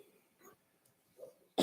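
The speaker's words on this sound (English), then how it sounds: "That was me coughing." A single short cough bursts out near the microphone at a township board meeting, coming at the very end of a quiet stretch of faint room murmur.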